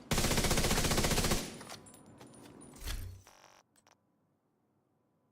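Automatic gunfire from a rifle in the shooter game The Division 2, a loud sustained burst of rapid shots for over a second, then quieter scattered clicks and a couple of short bursts fading into near silence.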